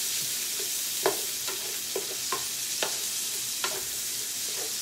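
Onions sizzling in a frying pan under a steady hiss, punctuated by several distinct scrapes and knocks of a utensil stirring them, close and moderately quiet.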